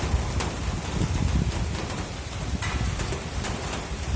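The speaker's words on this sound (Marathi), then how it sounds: "खूपच छान पाऊस चाललाय बाहेर" Morning rain falling outside, a steady, moderately loud hiss of drops on surfaces with occasional sharper patters, continuous and even.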